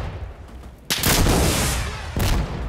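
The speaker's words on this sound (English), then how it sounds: "Stop fucking shooting me." Enemy gunfire in Insurgency Sandstorm, two loud close bursts of sustained firing, the first running over a second before a short break, the second starting near the end.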